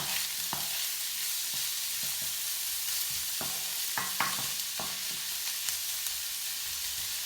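Chicken and prawns cooking in a pan over medium-high heat, a steady hissing sizzle broken by occasional spatula scrapes and pops, close and without talk.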